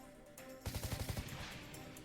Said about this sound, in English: a gunshot echoed in my ear, and the monster's head that had been holding my right arm in its mouth exploded